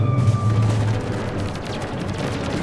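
Rapid gunfire in the video game Mass Effect 3, a dense burst of overlapping shots and booms over a low rumble, loud and continuous for a few seconds.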